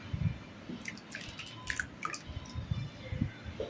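Cut elephant foot yam pieces drop into a pan of water, giving soft scattered splashes and wet plops over a few seconds, quiet and close with no talking.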